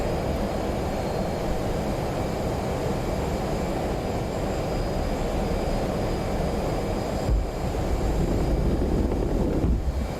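An F/A-18 jet in the DCS World flight game launches from an aircraft carrier in the Persian Gulf with a loud, continuous engine roar that holds steady throughout, with a brief surge near the end.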